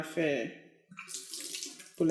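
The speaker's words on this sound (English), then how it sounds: "So she's pouring it in the bottle." Liquid, homemade kremas liqueur, poured into a glass milk bottle; a short splashing pour runs with speech before and after it, ending in a brief gurgle.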